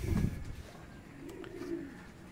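Racing-loft pigeons coo in low, soft bursts, one strong near coo at the start and a fainter rolling coo later, with quiet background in between.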